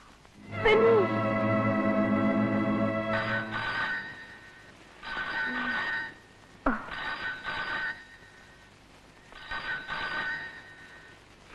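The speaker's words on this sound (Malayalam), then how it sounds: "ഫോൺ." An indoor telephone rings in repeated bursts separated by short pauses, fairly loud and close, with no talking over it.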